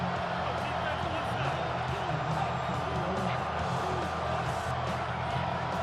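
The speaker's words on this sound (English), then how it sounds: "This crowd urging the defense on." A stadium crowd at an NFL game between the Bengals and Ravens keeps up a steady, dense roar of cheering, sustained from start to finish with a voice carrying over it.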